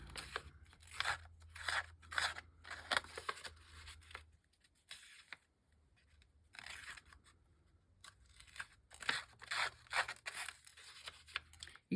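Scissors crunch, rub and scrape against plain copy paper in quick bursts of cutting and curling, close and fairly faint, with a quieter pause in the middle and no talk.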